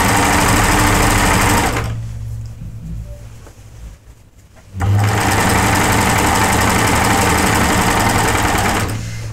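A sewing machine runs steadily while hemming the bottom of a garment, a loud continuous whirring hum that stops briefly for a couple of seconds before starting again.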